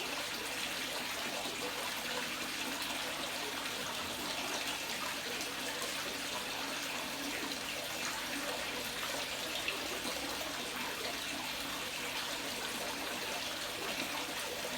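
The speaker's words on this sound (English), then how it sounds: "the sound of the water coming in from both directions is really rather soothing" Continuous rushing water pours and splashes into a koi pond from two directions, a steady, even trickling roar that stays constant throughout, moderately close and with no talking.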